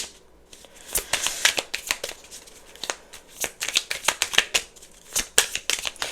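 Tarot cards being shuffled by hand, a dense run of crisp riffling and flicking bursts close by, with no talking over it.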